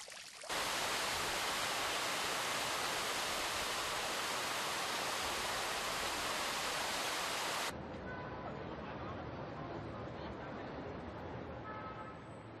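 Water from the Fuente del Negrito, Valencia's oldest city fountain, rushes loudly and steadily for several seconds, then drops to a softer continuous splashing flow.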